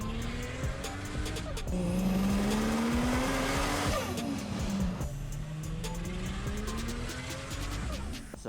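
A 750HP Nissan Patrol with a built forged FG Barra engine drives hard, its engine note rising and falling through gear changes with clicks and tire noise, heard from inside the cabin at moderate loudness.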